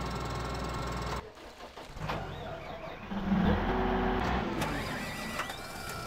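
A tractor engine in Farming Simulator 2013, a moderately loud steady mechanical drone that dips briefly, then rises and keeps running, with no talking.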